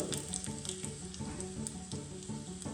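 Mustard seeds, cumin and dried red chilies sizzle in hot oil for an Andhra-style palak pappu tempering, a close, steady crackle broken by little rhythmic pops and spatters, with no voices.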